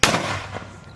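Mortar round fired on a range during a US and Indonesian Marine exercise: one sharp loud blast at the start, then a decaying rumble and echo lasting the rest of the second.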